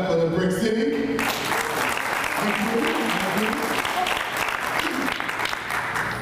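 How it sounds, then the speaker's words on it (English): Audience applause at a Newark, New Jersey community event, loud and dense clapping rising after a brief opening of music and sustained throughout, with crowd noise mixed in. "Clap it up for the Brick City."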